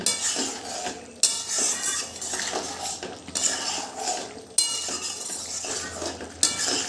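Curry in a pot being mixed with ghee and homemade garam masala: repeated metal scrapes and clinks of a spoon against the pot in uneven bursts, with a faint sizzle beneath.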